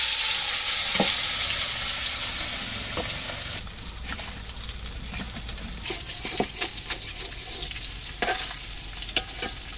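Small puti fish fry in hot oil in a pan, a continuous loud sizzle that shifts and thickens midway as the fish go in, with scattered clicks and scrapes of handling, no talking.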